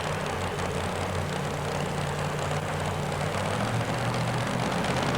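Butch Lepley's two-wheel drive pulling truck "Good and Plenty" roaring at full power on an indoor pull run at the Spectrum in Philadelphia, a loud, steady engine blare with a droning low tone held throughout.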